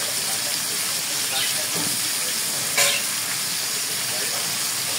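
Fish heads fry in spattering oil in a pan, a steady dense sizzle with scattered pops and one sharper crackle near the middle.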